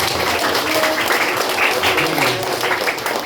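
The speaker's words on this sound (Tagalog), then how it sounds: "Palakpakan natin ang Panginoon" A church congregation applauds loudly and steadily, dense clapping from many hands filling the whole moment.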